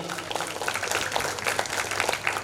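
Audience applause at the opening of the Malay Writers and Cultural Festival 2024, a steady wash of many hands clapping together from a hall crowd, moderately loud and sustained throughout without talk over it.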